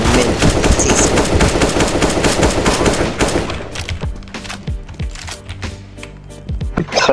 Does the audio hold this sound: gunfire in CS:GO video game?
yes